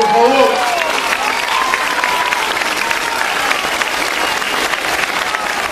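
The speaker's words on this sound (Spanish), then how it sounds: "un aplauso fuerte, por favor" Loud crowd applause fills the whole stretch for a political gathering welcoming the state governor in Pichucalco, steady clapping mixed with some cheering and a brief voice at the start.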